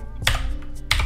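Keystrokes on a computer keyboard typing a word into a text layer, two quick clusters of close, crisp clicks separated by a short pause.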